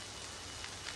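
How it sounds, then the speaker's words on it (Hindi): Rain falls on a window ledge, a faint, steady hiss of fine patter with a few soft drops standing out. "सुन रही है ना, ये होगी बारिश की आवाज।"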